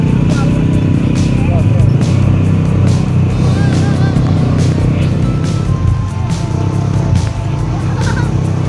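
Gas-powered 200cc ATV engine running steadily on volcanic trails on Mt. Mayon, a continuous loud motor drone with rumbling low end throughout, wind and terrain noise mixed in, and faint speech underneath.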